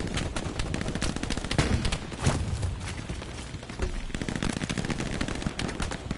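Dense gunfire in the Hell Let Loose shooter game, aimed at an enemy supply drop: rapid automatic bursts and scattered single shots overlapping continuously, with some loud cracks close by and others farther off.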